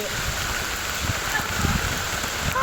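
Steady rain pours down during a cyclone flood in a Jaffna village, a continuous broadband hiss of drops with faint low rumbles beneath, close and moderately loud with no speech.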